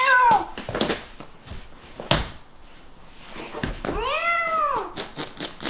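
A kitten gives two clear, close meows, a short one at the start and a longer rising-and-falling one later, with a sharp thump and light rustling between them.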